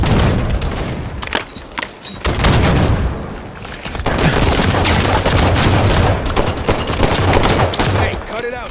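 Gunfire in a Halo 5: Guardians Team Doubles online match, with loud, dense bursts of automatic fire and booming impacts nearly continuous throughout, and game voices calling out between shots.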